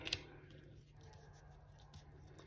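Scissors snip through paper labels for a junk journal project: one sharp, close cut near the start, then a quieter snip later, over a low steady hum.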